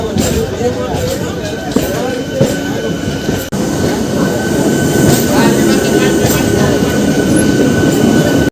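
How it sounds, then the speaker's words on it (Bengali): A Bardhaman–Howrah Main Line local train running nonstop at speed, with a loud continuous rumble of wheels on rails, clattering and faint squeal heard from on board, and a voice talking over the noise. "এই ট্রেন একদম নন স্টপ 38 কিলোমিটার চলবে"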